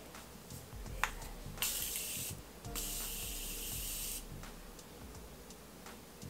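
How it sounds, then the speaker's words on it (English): Morphe makeup setting spray misted in two distinct bursts, each a sustained hiss lasting about a second and a half, close to the microphone with quiet pauses between. "let's spray with the Morphe setting spray."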